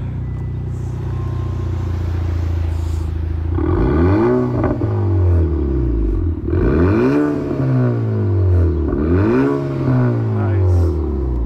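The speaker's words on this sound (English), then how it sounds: "So let's just do a few revs." A 2021 Honda Accord Sport 2.0T with muffler and resonator delete idles with a deep drone, then revs three times, each loud, raspy climb and fall close by.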